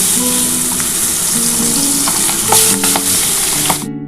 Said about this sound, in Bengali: এবার আমি ভেজে নিচ্ছি বন্ধুরা। আমি ভোলা মাছটা এবার দিয়ে দিচ্ছি।